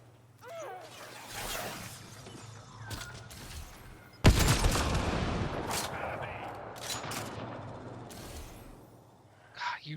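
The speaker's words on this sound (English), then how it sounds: "You're shooting at me!" Gunfire in the video game Mass Effect: Andromeda: scattered shots and bursts lead into a sudden loud blast midway, followed by a dense, rattling barrage that fades out, with a voice occasionally heard.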